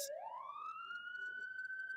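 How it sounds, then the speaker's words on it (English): Emergency vehicle siren during the Hollywood Hills fire in California, a single loud wail sweeping upward then holding a steady high tone, close and continuous throughout. "Those sirens are very loud."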